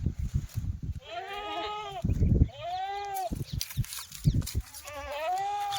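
Kathewadi goats on a farm give three or four loud, wavering bleats close by. Short knocks and shuffling fill the gaps between the calls.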